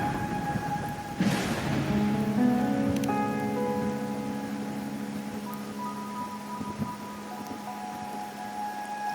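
Rain falling in the video game Wuthering Waves, a steady soft hiss of drops on surfaces with game music tones and a brief swell layered over it, no talk.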